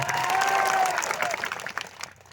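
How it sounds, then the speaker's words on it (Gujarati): Audience applause at a public event in Gujarat, a dense wash of clapping from a large crowd, loud and steady before tapering off toward the end, with a few faint whistles or cheers mixed in. "સો માટે એકવાર જોરદાર તાળીઓ પણ લે"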